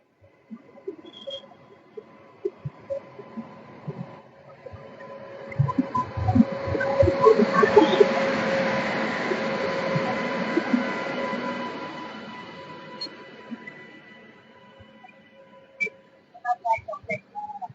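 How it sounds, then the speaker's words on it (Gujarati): An electric-locomotive train bound for Bandra, Mumbai, pulls into Navagadh railway station: a loud rumble with steady tonal hum builds from quiet, peaks midway, then fades, followed by a few faint clicks. "આ બાંદ્રા મુંબઈ તરફ જતી ટ્રેન અહીંયા નવગર રેલવે સ્ટેશન પર તેનું આગમન થયેલ"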